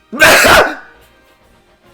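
One loud, close human sneeze, a sudden bright burst that fades quickly into quiet.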